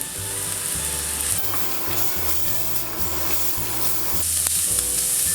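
Front pork ribs stir-fried in a wok over high heat without added oil for pineapple ribs hiss in a loud continuous sizzle, with a low steady hum from the stove underneath.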